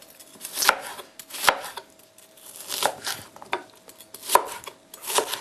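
A kitchen knife chops vegetables on a board for a pepper and shrimp pie, giving close, crisp strikes in an uneven rhythm with no talking.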